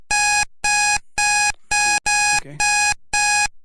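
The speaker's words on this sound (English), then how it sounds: "I didn't know Ready? my timer had an alarm on it." A timer alarm goes off close by with seven loud, evenly spaced electronic beeps, each a bright buzzy tone about half a second long, and a brief word is spoken near the end.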